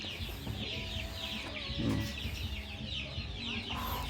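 Young gamefowl chickens on a range farm cluck softly amid background chirping and a brief human voice, a low, continuous flock murmur.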